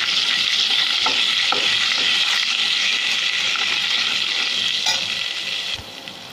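Turmeric, red chili and coriander powders are stirred into frying rajma masala, making a loud, steady, close sizzle with scraping strokes that softens near the end.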